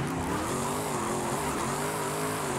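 Diesel-swapped Ford Mustang SVT Cobra drift car in Forza Horizon 5 drones with a steady, loud engine note that holds an even pitch throughout, with no talking.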